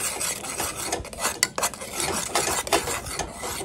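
A spoon stirs semolina porridge with egg yolk in a pot, making continuous soft scraping and clinking sounds against the metal, close up, with no talking.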